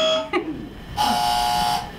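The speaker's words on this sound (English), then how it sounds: "Can I get a buzzer?" A game show buzzer at a live comedy show, a short electronic buzz of just under a second, fairly loud, preceded by a brief sound.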